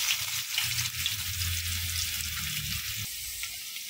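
Chopped onion is added to hot oil in the pan where fish was just fried, giving a continuous close sizzle and crackle with low stirring rumble that eases slightly toward the end.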